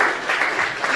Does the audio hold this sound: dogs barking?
no